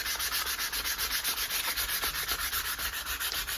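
Sandpaper scrubs varnish off the wooden handle of a cheap hammer in quick, even back-and-forth strokes, about six per second, close and steady with no talk.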